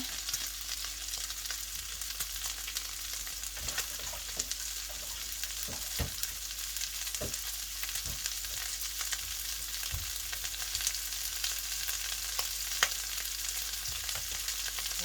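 Mixed vegetables with broccoli and bell pepper stir-fry in a pan, a constant bright sizzle broken by scattered clicks and scrapes of stirring, close and steady with no talk.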